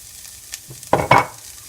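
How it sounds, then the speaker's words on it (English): Onions frying in a pan, a soft sizzle with a brief stirring scrape near the end, close and fairly quiet. "So I've started cooking my onions."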